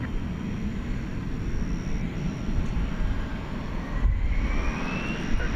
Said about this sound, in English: So a little Sky West taking off there in front of the big triple.